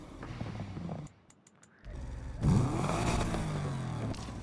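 Subaru Impreza '99 engine revving in the racing game NFS Unbound, a burbling idle that cuts out briefly, then a loud surging rev that holds at a steady roar.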